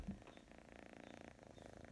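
Close, quiet cat purring, a soft rhythmic rumble pulsing steadily for a couple of seconds.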